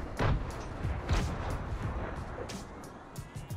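Rapid bursts of gunfire in Fortnite crack out at close and middle range, sharp cracks repeating irregularly over a dense, rumbling battle din.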